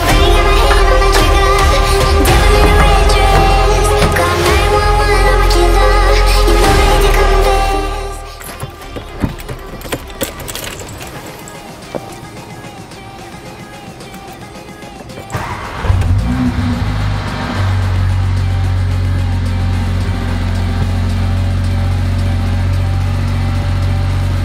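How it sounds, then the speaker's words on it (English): A Mercedes A45 AMG engine fires up after an oil service, a loud start and revving surge that dies away, then a few seconds of quieter engine sound and clicks before it settles into a steady, close idle hum. "We're gonna quickly start the car, let the engine oil circulate"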